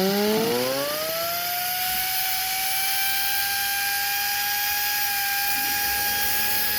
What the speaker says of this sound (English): We'll kick the grinder on.